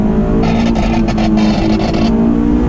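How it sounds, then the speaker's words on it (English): A Honda S2000 engine revs loudly and steadily in second gear, a close, throaty drone with rising pitch and rushing noise, no voices. "you see how loud second gear is"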